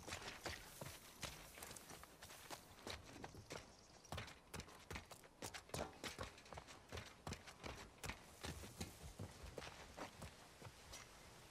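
In The Last of Us Part 2, a horse's hooves clip-clop in a steady rhythm of quiet, distinct hoofbeats, alone with no talking.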